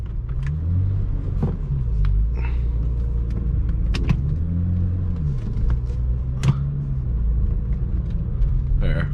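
BMW 335i stage 2 with E85 running 22 psi boost, accelerating hard in second gear from inside the cabin, with a loud, steady engine rumble and exhaust drone throughout and people talking and exclaiming over it.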